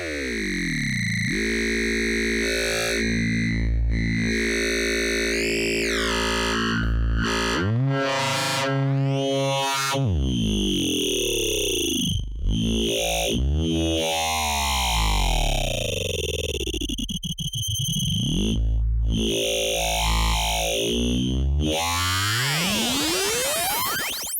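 Instruo Tš-L synthesizer module producing rich formant tones, bright buzzing harmonic voices that sweep and glide up and down, shifting abruptly between distorted vowel-like timbres throughout, loud and alone.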